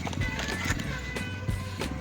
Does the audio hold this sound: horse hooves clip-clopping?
yes